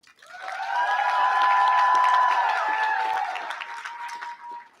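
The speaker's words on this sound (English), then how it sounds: "Now is your opportunity to thank them by offering them a round of applause." A commencement audience applauds faculty and staff, a full round of clapping that swells quickly, holds steady for a few seconds and then tapers off, with a tonal sound running through it.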